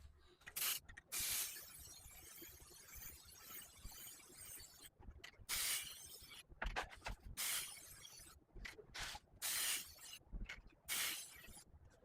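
Rust-Oleum spray paint in the Deep Abyss color hisses from an aerosol can in close, repeated bursts, with short pauses between the sprays.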